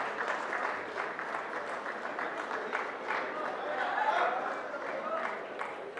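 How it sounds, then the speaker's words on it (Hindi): Steady applause from a large audience at an official stage event welcoming actor Rajkummar Rao, sustained clapping at an even level throughout with crowd murmur underneath. "तालियों के साथ अभिनंदन कीजिएगा।"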